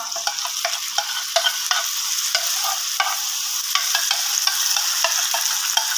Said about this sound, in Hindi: अब इस दही को हम अच्छी तरह जो है वो इसमें मिक्स कर लेंगे आलूओं में